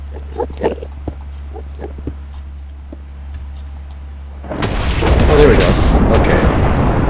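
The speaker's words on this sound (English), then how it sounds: "this thing is going to cause a huge explosion, which is going to damage nearby entities and players" Explosion from a Draconic Evolution resurrection ritual in modded Minecraft, a sudden heavy blast that swells into a loud, sustained roaring rumble after a stretch of scattered clicks and keyboard taps over a low hum.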